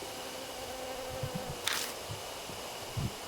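Buzzing insects in a hive scene from the video game Death Mark, a faint steady drone with soft scattered flutters and a brief hiss, no talking.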